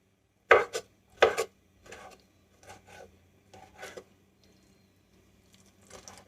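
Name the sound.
knife cutting meat into chunks for chicken broth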